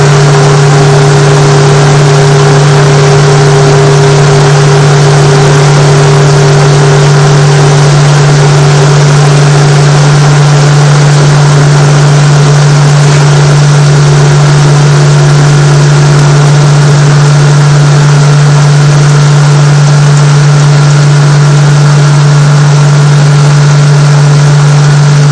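Pelton wheel turbine in a lab test rig running as load is applied to its brake drum, a loud constant hum with a strong steady low tone and broad rushing noise, unbroken throughout.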